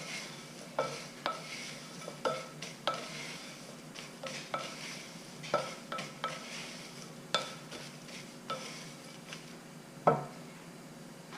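Pumpkin spice granola with dried cranberries being stirred in a pan, a utensil scraping and knocking against the metal in repeated soft strokes, with sharper clinks now and then over a faint steady background.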